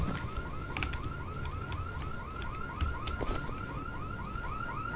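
A car alarm blares inside the zombie game Dead Island, a steady loud cycling wail that repeats without a break.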